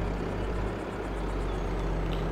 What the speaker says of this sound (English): this is the smallest tractor I have